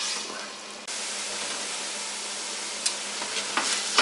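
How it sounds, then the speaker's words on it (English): Extra lean ground meat for spicy meat pies sizzles steadily in a frying pan, a close, even hiss with a couple of faint scrapes of stirring near the end. "I got the meat cooking down in my pan here"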